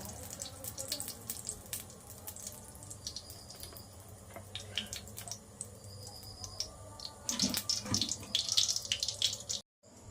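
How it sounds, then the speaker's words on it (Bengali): Cooking oil pours and trickles steadily into a hot pan with light crackles and clinks, growing busier near the end before cutting off into brief silence. "তেল ঢালছি, দেখুন"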